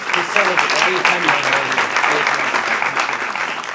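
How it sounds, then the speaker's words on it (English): Audience applauding at a live show, a dense, steady wash of clapping that fills the room throughout, with voices and cheers mixed in underneath. "You guys are great. Round of applause."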